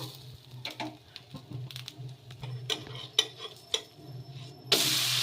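A poha (flattened rice) dosa frying in a little oil on a pan: a continuous sizzle punctuated by sharp clicks and scrapes of a spatula, then a louder hiss swelling at the end.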